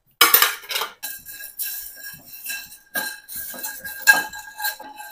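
Whole nutmeg, black peppercorns, cloves and cinnamon dry-roasting in a pan, stirred with a utensil. Close, irregular clinks, rattles and scrapes come in short bursts with brief pauses, and no one speaks.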